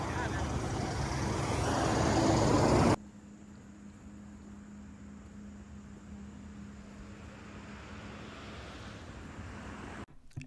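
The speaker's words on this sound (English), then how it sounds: "We got a lot of traffic in the background" Road traffic hums steadily in the background near a roadside stop on a road trip, loud and rushing at first, then dropping abruptly to a quieter, continuous distant drone.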